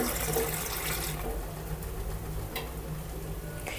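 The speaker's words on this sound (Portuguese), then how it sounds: "Aqui eu tô colocando água em temperatura ambiente" Room-temperature water is poured from a tap into a pot with one cup of rice, a steady close splashing rush that eases slightly partway through, with no talking.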